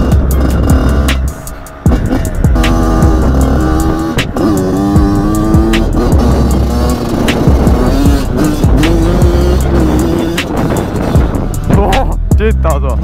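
A Yamaha YZ85 motocross bike on motocross tires rides over gravel, its two-stroke engine revving loudly and rising and falling in pitch, with wind buffeting and crunching underneath and occasional voices mixed in.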